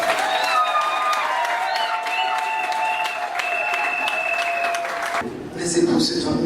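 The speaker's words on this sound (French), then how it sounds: "Applaudissez très fort." Wedding guests applaud at a ceremony in Cameroon, steady dense clapping that fills the room while a sustained tone sounds over it, then shifts near the end.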